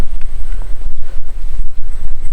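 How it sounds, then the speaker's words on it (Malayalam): Strong wind at the Kaalippara viewpoint in Trivandrum buffeting the microphone in low, rumbling gusts, loud and close, with no one speaking. "വെയിലാണെങ്കിൽ നല്ല കാറ്റടിക്കുന്നുണ്ട്"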